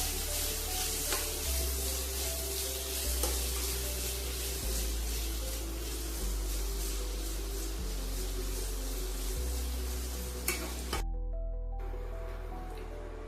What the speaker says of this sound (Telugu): ఈ విధంగా లైట్గా దొండకాయలు ఫ్రై చేసుకోవాలి